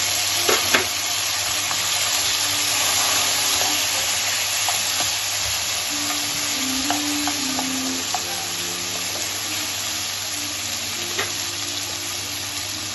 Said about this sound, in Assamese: এতিয়া বইল কৰি ৰখা অমিতাখিনি ইয়াতে ভাজি দিম।